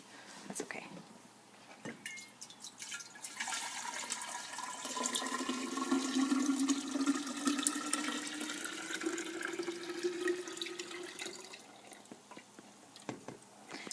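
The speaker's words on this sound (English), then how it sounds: "Now I'm going to pour it into a gallon jar." Sweet tea for kombucha is poured into a gallon glass jar, giving a rising gurgling pour stream that lasts several seconds, with soft whispering voices throughout.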